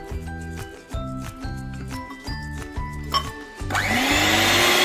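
An electric beater whirs in bursts through cupcake batter, humming in short repeated pulses with metallic clinks against the bowl, then running loud and steady at the end, close up and with no talk.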